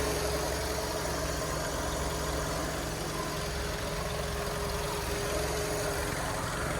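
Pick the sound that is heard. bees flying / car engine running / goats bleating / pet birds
car engine running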